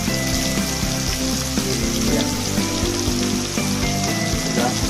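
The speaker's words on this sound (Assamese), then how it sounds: "মাংসটো এতিয়া ফ্ৰাই কৰি আছে গোটা জিৰা দি পেলাই" Meat frying with whole cumin in a pan, a dense continuous crackling sizzle like rain on a surface, steady and close, with faint scrapes and no voices.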